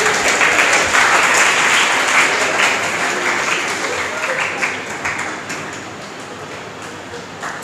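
A crowd at an award ceremony for an academy's confidence-building program claps steadily, the applause thick at first and then slowly tapering off over several seconds.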